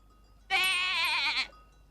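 A single clear, close bleat from a young lamb, wavering and lasting about a second, with near silence before and after.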